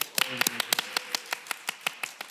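Studio audience on a Korean talk show breaking into applause before a piano performance, a quick run of sharp, evenly spaced claps, close and fairly light, with brief speech at the start.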